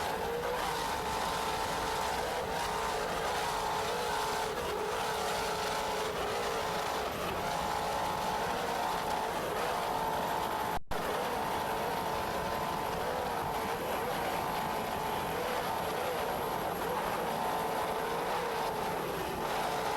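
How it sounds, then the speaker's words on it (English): Offshore racing powerboats run their engines in a Virginia Beach offshore Grand Prix, a steady, loud droning roar that holds without letup for the whole stretch, with no speech over it. "Just listen to those Zool power plants."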